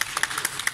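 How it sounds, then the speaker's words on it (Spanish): A few quick, scattered claps from an audience after a children's song performance, faint and brief with no talking. "Pues ese aplauso, a ver, venga."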